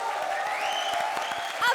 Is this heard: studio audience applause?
yes